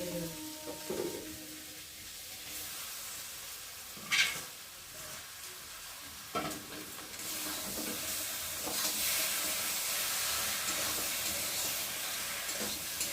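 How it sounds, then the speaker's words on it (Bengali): Food stirred while frying in a pan during home cooking of a tiffin dish, with a steady sizzling hiss and a few sharper scraping stirs, rising to a louder continuous sizzle toward the end, with no talking. "এখন আমি নেড়ে দেবো"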